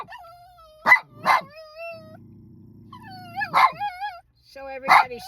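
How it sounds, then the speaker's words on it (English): A dog lets out sharp barks in short bursts, with high, wavering whines and whimpers between them and a low rumble midway. "Oh, that barking. He's just so loud."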